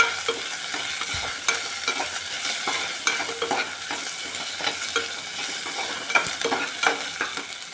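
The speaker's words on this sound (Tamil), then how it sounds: "இப்போ வெங்காயம் பச்சை மிளகாய் நல்லா வதங்கிடுச்சு. இப்போ இஞ்சி பூண்டு பேஸ்ட் போட்டுக்கோங்க." Onion, green chilli and ginger garlic paste sautéing in oil for tomato biryani, giving a continuous close sizzle broken by frequent rhythmic stirring scrapes, with no voices.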